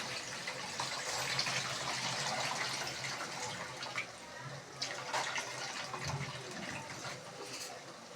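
Rice being washed by hand in water in a home kitchen before cooking a drumstick tomato curry, soft continuous splashing and swishing with small sloshes, fairly quiet and close.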